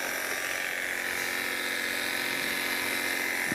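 A Wahl professional dog grooming clipper with a snap-on comb buzzes steadily and close, a constant electric hum running unbroken for several seconds with no talk.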